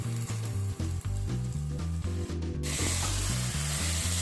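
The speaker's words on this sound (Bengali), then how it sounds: "এবার এই চালটাকে আমি এর মধ্যে দিয়ে দিচ্ছি।" Everyday rice tipped into a pot of sizzling spices over a medium flame; a bright, steady sizzle bursts in partway through and continues over background music.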